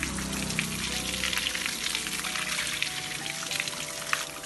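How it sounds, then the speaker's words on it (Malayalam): Water poured over a buffalo's head on a buffalo farm in Wayanad, a steady splashing and trickling pour lasting throughout at close range, with faint tonal background hum and no talk. "കണ്ട തലേ വെള്ളം ഒഴിച്ചു കൊടുക്കുമ്പോൾ അവൻ കുറച്ച് നീങ്ങുന്നേ"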